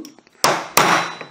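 Two heavy hammer blows strike a punch to drive a pin out of a rifle barrel held in a vise, each a sharp, loud metallic crack that rings out briefly, with faint soft taps before them.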